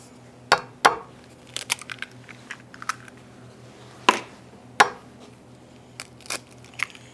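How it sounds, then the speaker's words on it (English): Two eggs cracked into a container of milk while making French toast: sharp, close taps and crisp shell snaps spread irregularly, with a few smaller clicks and rustles between them. "And then I'm gonna crack open 2 eggs."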